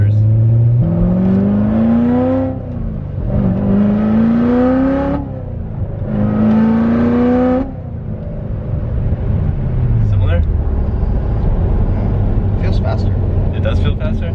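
A Corvette Z06 engine accelerates hard through three rising gear pulls, each climbing in pitch before a shift, loud from inside the cabin, followed by a falling deceleration tone and passengers talking.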